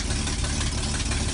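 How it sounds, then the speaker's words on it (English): A car engine turning over and running after a head gasket rebuild and reassembly, a loud steady low rumble close by with no pauses and no voices. "put all the engine back together and turn it over. Turns over flipping amazing"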